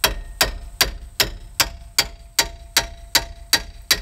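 Hammer blows on the brake caliper of a 2015 Chevy Silverado during front brake work, an even run of about ten sharp metallic strikes roughly every 0.4 seconds, close and loud with no talking.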